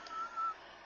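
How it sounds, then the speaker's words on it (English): Someone whistles two short, faint, thin notes over a steady background hum, quiet and brief. "Quit fucking whistling,"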